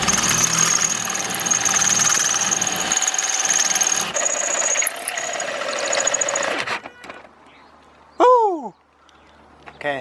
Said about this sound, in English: now I'm going to drill a hole straight up through here and through the top of the car